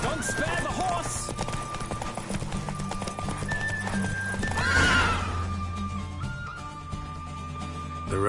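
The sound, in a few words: horse galloping in a race, video game The Witcher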